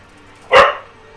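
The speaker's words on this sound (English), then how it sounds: "And the dog yells at me." An in-game dog in Monster Hunter World lets out one short, sharp bark, loud and close, with near silence around it.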